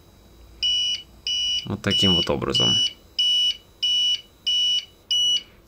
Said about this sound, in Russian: Ужасное пищание, мерзкое.